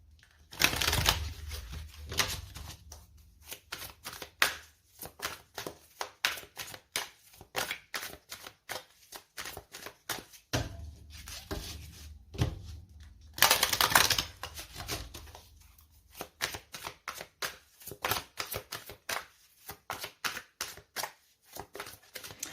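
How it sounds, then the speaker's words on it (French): Tarot cards are laid out one by one on a table, giving a close series of soft flicks, slaps and shuffling rustles in irregular bursts with quiet gaps between. "On pose les 9 cartes."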